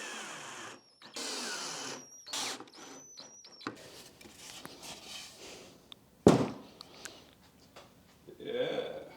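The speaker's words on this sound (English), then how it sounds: "Once you've got it centered up, we're gonna go ahead and we're gonna pre-drill." A drill pre-drills holes in a hardwood workbench top, giving short whirring bursts that start and stop several times, and later a sharp knock and quieter handling sounds.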